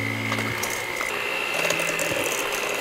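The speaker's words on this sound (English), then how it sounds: "I'm gonna use my hand mixer." Electric hand mixer creaming butter and sugar for chocolate chip cookies, a steady mechanical whir and rattle with shifting pitch throughout, close and alone.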